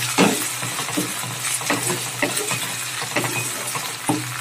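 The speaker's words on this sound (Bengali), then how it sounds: "এই লো আঁচে রেখে আমি এক মিনিট মতো আদা ও রসুনের পেস্টটা ভালোভাবে ভেজে নেব" Ginger-garlic paste frying on low heat in a kadai for a chicken and potato curry: a steady close sizzle broken by repeated scraping stirs of a spatula, with no voices.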